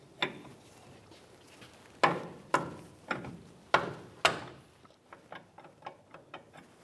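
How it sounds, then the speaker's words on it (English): A 22mm wrench works a tie rod jam nut on a Nissan Titan, giving a series of sharp metallic clicks and ratcheting ticks, a few louder snaps followed by quicker, fainter clicks, close by and alone. "To loosen this jam nut, you can use a 22mm wrench or 7/8."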